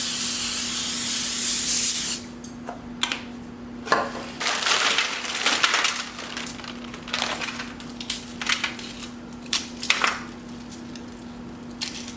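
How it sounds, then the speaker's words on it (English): A short burst of olive oil cooking spray hisses onto a pan at the start, followed by scattered light clicks and rustles against a steady low electrical hum. "Now I'm just going to give it a little spray with olive oil spray."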